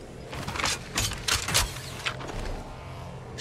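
Gunfire in an Apex Legends Mobile ranked match on the Olympus map comes as several close, sharp bursts of rapid shots separated by short pauses, with no talking.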